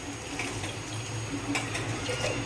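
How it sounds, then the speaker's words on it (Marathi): A glass of water pours steadily into a cooking pot of pasta for a couple of seconds, a close, continuous splashing trickle with no voices. "याच्यामध्ये आता आपण टाकणार आहोत एक ग्लास पाणी"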